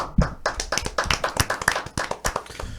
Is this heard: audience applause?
yes